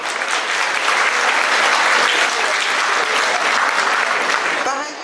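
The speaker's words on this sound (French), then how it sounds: "je vous demande de les applaudir très fort" Loud, sustained applause from a large crowd at the 25th Salon du Chocolat in Paris 2019, honoring Café Cacao council officials, dense and even before tapering slightly at the end as a voice starts.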